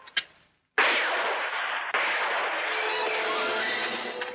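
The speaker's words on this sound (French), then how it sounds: "Quelqu'un a tiré 2 coups de feu par là." Two sharp gunshots from a rifle or carbine in a black-and-white Western, each a sudden crack followed by a long rolling echo that fills the air, the second blast landing about a second after the first.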